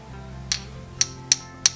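A hammer taps a nail four times in short sharp metallic strikes, spaced about a third of a second apart, close and clear over a low steady background hum.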